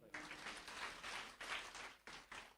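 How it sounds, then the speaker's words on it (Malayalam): A congregation claps together inside a church during a Holy Eucharist service, producing faint, dense, sustained applause in several rolling waves. "ഇപ്പൊ മഴയില്ലാതെ നിൽക്കുന്ന ഈശോയ്ക്ക് കൈയടിച്ച് നന്ദി പറയാം."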